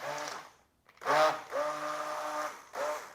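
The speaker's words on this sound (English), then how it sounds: "Because this blender is real strong, I tap it." A strong blender pulses French toast batter in short bursts, a whirring motor starting and stopping about three times with brief gaps between, close and loud.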